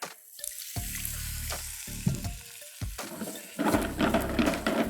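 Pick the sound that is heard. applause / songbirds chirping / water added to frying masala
water added to frying masala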